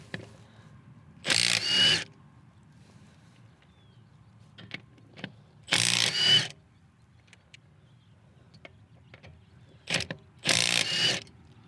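A Milwaukee M18 FUEL compact 3/8" impact wrench with a deep-well 19 socket runs lug nuts to 120 newton metres, firing three short, sharp hammering bursts separated by quiet pauses and faint clinks.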